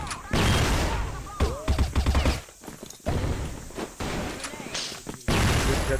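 Flashbang grenade exploding in the CrossFire video game, bursting loudly amid a rapid run of sharp crackling impacts and gunfire-like bangs, with players talking over the action.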